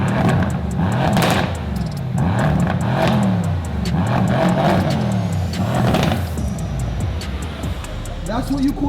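Supercharged Mercedes E55 AMG V8 with an upgraded supercharger pulley revving repeatedly, several loud rising and falling engine pulls close by, with someone talking between them.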